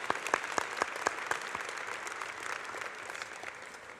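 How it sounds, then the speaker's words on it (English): Applause from an awards ceremony crowd, with several sharp claps standing out early before settling into steady, even clapping that carries on throughout. "Let's give them another round of applause."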